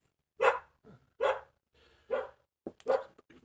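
A dog barks four times in a steady, spaced rhythm, fairly close and clear, with quiet gaps between each bark.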